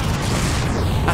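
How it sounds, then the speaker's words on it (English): Explosion in the video game Far Cry, a loud, dense roaring blast that fills the whole short moment with sustained rumble and crackle and no clear attack or fade. "that explosion would be like ear rattling though"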